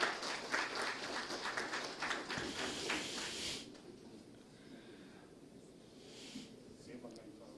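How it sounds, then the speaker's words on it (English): Applause from an audience at a webinar milestone event, brisk clapping for about three and a half seconds and then cutting off, leaving quiet room tone with faint murmurs. "please give a big round of applause"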